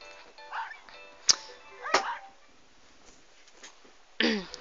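Small synthetic puppy yips from a Nintendogs game, the kennel's dachshund, chihuahua and labrador pups, come as a few short, sharp barks spread apart, with a brief whimpering yelp near the end.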